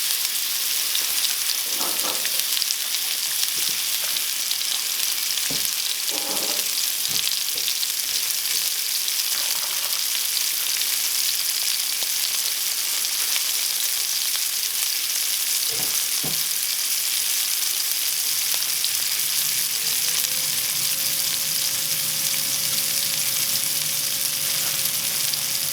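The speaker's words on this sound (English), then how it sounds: "Okay, that's a good sizzle." Filet mignon sizzles steadily in a hot pan, a continuous crackling fry broken by a few louder pops and stirring knocks, with a faint hum entering near the end and no talking.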